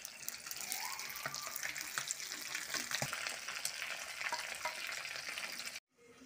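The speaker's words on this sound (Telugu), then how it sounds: "చేపలు ఫ్రై అయిపోయింది" Streaked spinefoot fish fry in hot oil in a pan, giving a continuous, close crackling sizzle with small pops that cuts off abruptly near the end.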